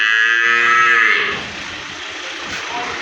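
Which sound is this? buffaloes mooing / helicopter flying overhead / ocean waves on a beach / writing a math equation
buffaloes mooing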